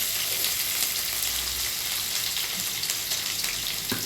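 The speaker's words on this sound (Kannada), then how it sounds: "ಈಗ ನೋಡಿರಿ, ಈ ರೀತಿಯಾಗೆ ಫ್ರೈ ಆಗತೈತೆ ರೀ" Onion and finely chopped capsicum frying in a pan, producing a steady, dense, close sizzle throughout with a few faint stirring knocks and no talking.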